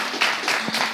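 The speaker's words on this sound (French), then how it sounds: "on applaudit." A small group claps at a fashion week event, with a few distinct, fairly loud claps spaced unevenly across a brief second and faint room murmur underneath.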